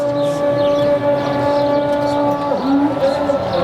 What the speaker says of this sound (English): I don't know if you can hear the call to prayer.